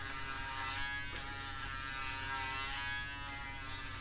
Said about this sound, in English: You can use that cheap Action foil shaver for it.